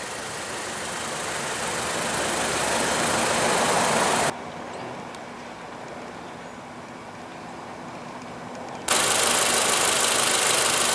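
A 2016 Toyota RAV4 with a 2.5 L inline 4-cylinder engine runs with a loud, steady mid-range drone that drops to a quieter idle for a few seconds and then jumps back to full level.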